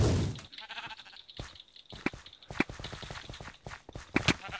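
Sheep bleating in a red-versus-blue Sheep Quest video game challenge, with several short cries among rapid footstep-like clip-clop taps and sharp clicks, moderately loud and busy.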